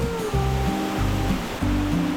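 Waterfall with a weak stream at Ice Valley, a steady rushing roar of falling water that fills the whole clip, close and loud, with no voices.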